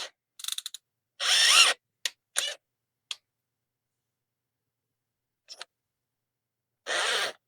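Chuck of a cordless screwdriver being tightened around a steel rod while making a centre punch, several short ratcheting bursts and clicks separated by silence, close and alone.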